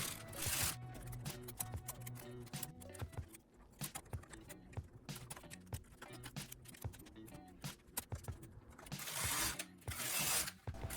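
A domestic knitting machine carriage knits rows of a star-pattern pullover, giving busy mechanical clatter with ratcheting and sliding clicks that swell and fade as it travels back and forth, louder at the start and near the end.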